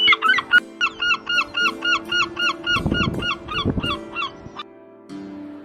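A seabird calls in a rapid series of about a dozen sharp, nasal honking notes in steady rhythm, loud and close, then falls quiet near the end, with some low rumbling noise beneath.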